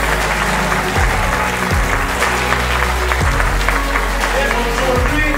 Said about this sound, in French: Je voudrais vous demander d'applaudir très fortement tous ces lauréats qui sont là